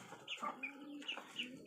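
Indian-breed chickens cluck in a short run of several close calls, moderately loud with no talking.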